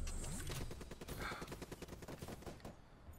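Rapid automatic gunfire in Call of Duty Black Ops 3 hardcore kill confirmed, shots fired through a wall, a dense burst of repeated cracks lasting nearly three seconds before tapering off.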